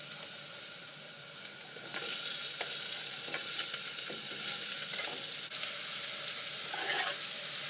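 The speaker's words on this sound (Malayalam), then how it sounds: "ഉള്ളി നന്നായി വഴറ്റണം." Onions sauté in a pan after garlic, while cooking a Kerala-style chicken curry, giving a steady, fairly quiet hissing sizzle with occasional soft stirring scrapes and no talk.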